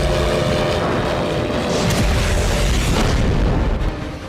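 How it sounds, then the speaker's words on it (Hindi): Several explosions rumble overhead as drones collide with air defense missiles in the sky above Russia during a large-scale drone attack, a continuous loud, booming roar with dense low-end thuds and no clear gaps between blasts. "ड्रोन और मिसाइल की टक्कर से आसमान में कई धमाके हुए।"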